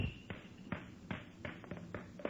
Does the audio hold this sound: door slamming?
yes